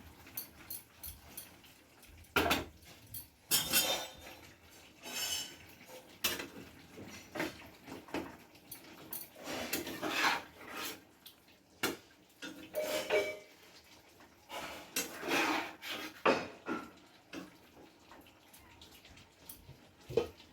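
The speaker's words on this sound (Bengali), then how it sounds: "এবার আমি ঢাকাটা সরিয়ে একটু নাড়াচাড়া দিয়ে নেব" Lid lifted off a pot of Bengali lotte (Bombay duck) fish curry, then a spoon scrapes and stirs through it in irregular metallic clanks and knocks, moderately close in a quiet kitchen with no talk.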